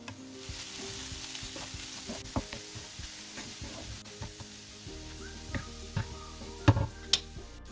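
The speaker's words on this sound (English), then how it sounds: "Now add in the mushrooms. Mix well and cook for 5 minutes" Mushrooms frying in a pan, a quiet steady sizzle broken by scattered scraping clicks of a utensil stirring them, a few louder knocks near the end.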